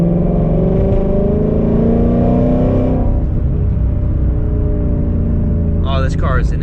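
A Ford Mustang engine revs hard while driving, a loud close rumbling roar with rising harmonics that drops off partway through, followed by steady road drone and a brief voice near the end.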